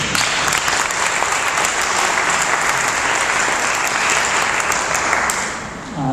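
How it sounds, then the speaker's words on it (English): Gathered guests applaud the classmates with a full, continuous round of clapping lasting about six seconds, easing slightly just before it ends. "A round of applause for everyone, please."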